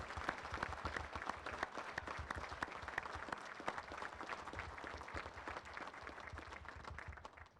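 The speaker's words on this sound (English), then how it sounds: "Please join me in giving these individuals a well-deserved round of applause." Sustained applause from a graduation audience honoring police academy (BLET Class 73) graduates and staff, a dense, steady wash of many hands clapping throughout, moderately loud and unbroken, with no speech over it.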